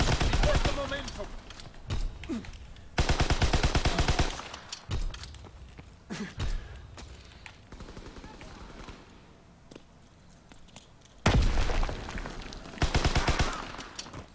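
Bursts of rapid automatic fire from a grease gun submachine gun in the Call of Duty WW2 beta, several loud sustained volleys separated by quieter stretches of ambient battle noise.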